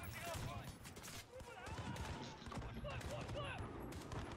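Gunfire in Call of Duty Modern Warfare, a busy spread of rapid shots and bursts mixed with game effects, with players talking over it throughout.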